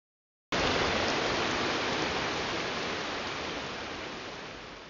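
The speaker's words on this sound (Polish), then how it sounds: "I znów ten etap z ulewą." A heavy rain downpour in the horror video game No One Lives Under The Lighthouse starts abruptly after a brief silence, then continues as a loud, dense, steady hiss that fades slightly over several seconds.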